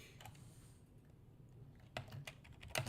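Computer keyboard keys click faintly while code is being typed, a few scattered taps early, then a handful of sharper, closer keystrokes toward the end.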